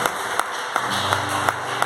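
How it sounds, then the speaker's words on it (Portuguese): A church congregation applauds during a Pentecostal-style service, many hands clapping in a dense, steady stream, with some louder individual claps standing out at regular intervals. "Dê um aplauso para Jesus essa noite."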